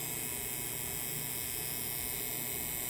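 A Yilong F3 wireless adjustable-stroke tattoo pen runs at setting 4.5, giving a faint, steady electric hum with a thin high whine that holds unchanged throughout.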